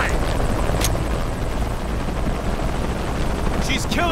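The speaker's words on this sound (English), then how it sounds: "Always hated helicopters." Helicopter in the video game Shadow of the Tomb Raider, a steady loud rotor roar that fills the whole stretch, with battle noise and faint voices mixed in.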